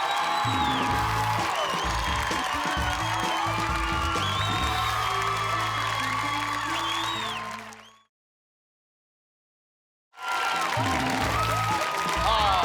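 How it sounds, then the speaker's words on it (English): A studio audience at a TV wellness show claps, whoops and cheers energetically, the noise dense and sustained before cutting out to silence for a couple of seconds, then returning just as loud. "The crowd's gone berserk."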